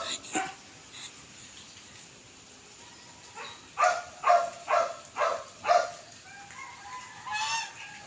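Domestic geese honk in a rapid run of five loud calls near the middle, with scattered fainter honks before and after, while a person speaks briefly in between.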